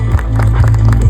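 Audience applause at a Tata Sierra car launch event in Sirsa, loud and close, a dense wash of many hands clapping with a heavy low rumble underneath, steady across the whole moment.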